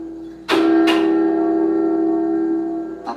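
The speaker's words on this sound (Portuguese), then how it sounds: "O sino do Vaticano anunciou a morte do Papa." Two heavy strikes of a large Vatican church bell ring out close together, tolling for the Pope's death, followed by a long, deep humming resonance that slowly fades.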